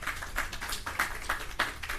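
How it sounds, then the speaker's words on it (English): Faint audience applause at a Jamaica Cyber Security Awareness Day event, steady scattered clapping heard from a distance for about two seconds. "please give her a round of applause"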